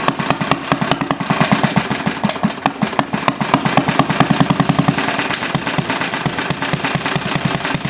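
A small Briggs & Stratton engine with a restricted exhaust runs steadily at idle with a muffled, rapid chugging putter, close and continuous, with no voices.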